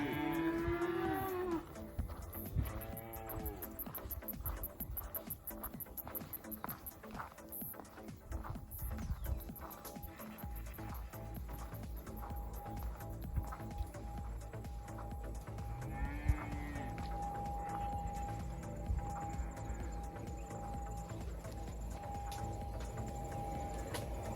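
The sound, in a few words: curious cows at a fence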